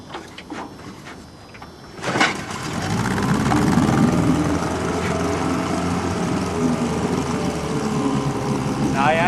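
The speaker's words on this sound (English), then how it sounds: "When it's cold, you want to start it with the choke out." A 1957 Evinrude Fleetwin outboard motor, started cold with the choke out, in neutral, catches after a quiet moment and then runs in a steady, loud drone, with a voice talking over it.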